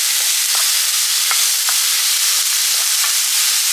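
Salted diced radish, celery and garlic cook in a pan with a steady, dense sizzle throughout, broken by occasional soft stirring scrapes.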